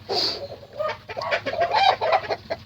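Chickens, including a white Brahma cross and Plymouth hens, cluck and chatter in a busy, continuous stream of short calls, close by, with one higher squawk at the start.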